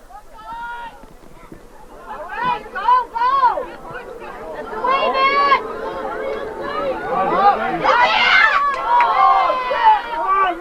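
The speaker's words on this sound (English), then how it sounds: "Crowd getting a little rowdy." Rowdy crowd at a 1992 boys' high school game between NCCS and Beekmantown: a steady babble of chatter and overlapping voices that swells into louder shouting and cheering toward the end.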